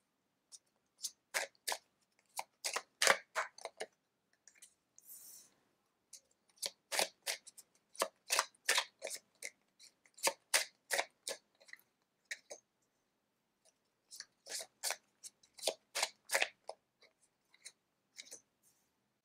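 Oceanic Tarot cards being shuffled by hand in short, crisp bursts of riffling and slapping, separated by brief pauses, close and fairly quiet, with no talk.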